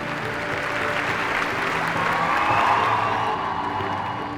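An audience in Paris applauding and cheering a Bollywood dance show, dense sustained clapping from a large crowd, loud and even throughout.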